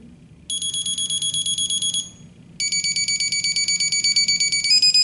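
A shrill electronic alarm from a GMS Med-e-lert medication reminder beeps in fast pulses, pauses briefly, then resumes in a longer, steadier run of rapid high tones.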